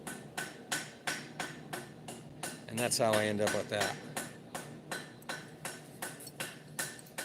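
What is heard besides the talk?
ball peen hammer sculpting a metal leaf on wood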